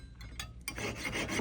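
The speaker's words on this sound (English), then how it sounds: "So I'm going ahead and sawing this because it is so thick." A jeweler's saw rasps through thick gold thread in short back-and-forth strokes, a close, scratchy filing sound heard alone at low volume.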